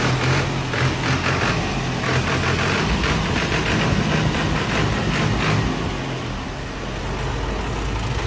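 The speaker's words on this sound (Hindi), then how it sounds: "ट्रैक्टर स्टार्ट ठीक है" A diesel tractor engine runs close by, a loud, steady idling rumble with rhythmic low throbbing and a faint mechanical clatter, holding constant throughout without talk.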